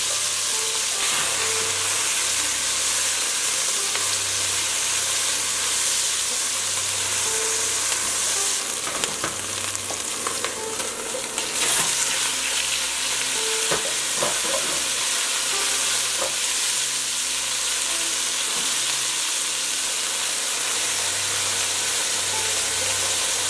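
Beef for Vietnamese beef stew frying in a Dutch oven, a steady close sizzle and hiss with intermittent scraping and clinking as it is stirred, continuing without talk.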